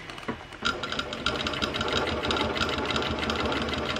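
A sewing machine stitching heavy gazebo fabric runs steadily with a fast mechanical whir and rhythmic needle chatter, starting up after a brief quiet moment and continuing close and fairly loud.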